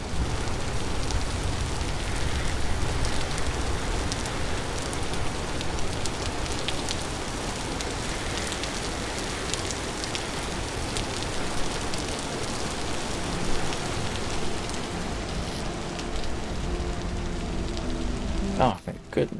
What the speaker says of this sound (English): Sounds like it's stopping raining.